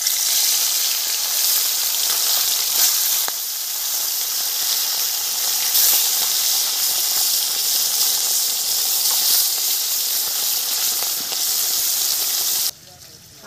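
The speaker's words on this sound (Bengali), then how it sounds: "তেল গরম হয়ে গেছে, কড়ার গায়ে একটু খুন্তি দিয়ে চারিপাশে লাগিয়ে দিই।" Hot oil hissing steadily in a kadai for a rohu fish curry, a loud, continuous sizzle close by that runs without a break before abruptly quieting near the end.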